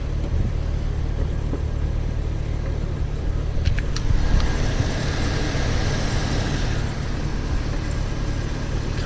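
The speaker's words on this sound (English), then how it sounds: "Such a low idle, but I love it." A stock 2006 Pontiac GTO with the 6.0-liter V8 idles low and steady, a deep continuous rumble heard nearby with a faint metallic click partway through.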